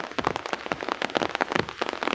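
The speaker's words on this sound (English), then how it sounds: "Starting to rain again." Rain pattering steadily during a walk to a park in Chester, Pennsylvania, with dense, close drops tapping on a surface, likely an umbrella, in a continuous irregular drumming.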